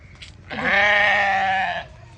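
A single loud, drawn-out sheep bleat close by on a farm in Kenya, lasting over a second, with faint background noise before and after.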